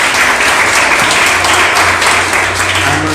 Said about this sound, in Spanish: mándenle un aplauso al pastor